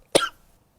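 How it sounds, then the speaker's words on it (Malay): A single short cough, close and sharp, followed by quiet. "Batuk pula hari ni"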